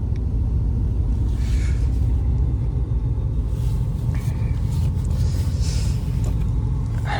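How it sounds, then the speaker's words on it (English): Car engine warming up on a snowy winter day, a continuous low idle rumble heard up close and loud, steady with no talking. "I'm gonna let the car warm up."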